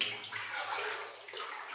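Cold water sloshes and splashes continuously around someone wading through a flooded passage inside an old gold mine, a steady close-up wash of splashing with slight gurgles.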